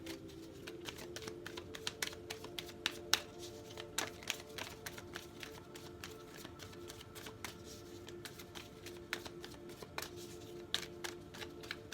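A tarot deck is shuffled by hand, a quick patter of soft card riffles and taps repeating through the whole stretch, close and fairly quiet with no voices.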